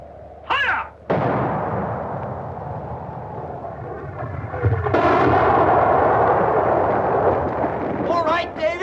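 Heavy artillery guns fire in a snowy wartime battle scene from a 1950 war film, with booming blasts and rolling rumble following shouted voices near the start.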